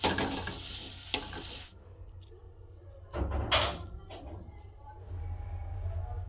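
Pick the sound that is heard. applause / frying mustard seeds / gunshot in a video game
frying mustard seeds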